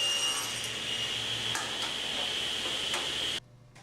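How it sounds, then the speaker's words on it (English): A table saw crosscutting a wooden board guided by a miter gauge, its steady whining motor running loud and close with a few brief cutting bursts, then cutting off abruptly near the end. "To cross cut, hold the board tight to the miter gauge, keep your shoulders square, and push all the way through the cut."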